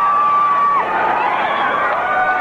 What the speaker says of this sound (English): Listen to the crowd, the roar of the crowd.